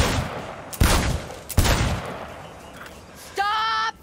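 Gunfire cracks at a shooting range in Cyberpunk 2077, with two loud sharp bursts followed by a rapid mechanical rattle near the end, close and dominant with no talking.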